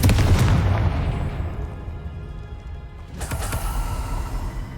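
In the video game Hogwarts Legacy, a Confringo explosive spell goes off with a loud booming blast that decays into a fading rumble, followed by a second sharp burst and crackling.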